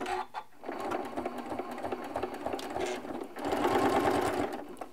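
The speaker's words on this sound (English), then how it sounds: "we're going to lock our stitches here. So go forward and backward." A sewing machine stitches quilt binding forward and then backward to lock the stitches, a steady close whirring hum that shifts and grows louder partway through as the direction reverses.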